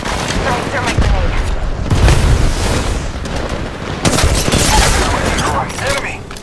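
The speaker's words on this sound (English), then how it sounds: "Throwing thermite grenade." Thermite grenade thrown during an Apex Legends Mobile team deathmatch, heard amid a dense, loud barrage of gunfire and booming impacts that continues throughout.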